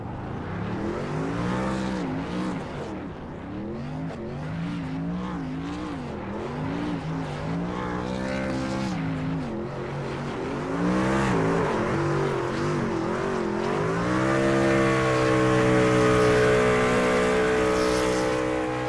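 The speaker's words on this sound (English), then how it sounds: "But some long-awaited, long overdue victory burnouts here for Lehman." Race trucks at a truck series event doing victory burnouts, engines roaring steadily with rising revs and a sustained tire squeal, loud and close, growing stronger toward the end with no talk over it.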